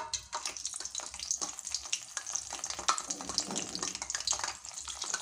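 Puran karanji, sweet stuffed dumplings, frying in hot oil over a medium flame, a continuous crackling bubbling sizzle with irregular pops and spatters, close and moderately loud with no talking.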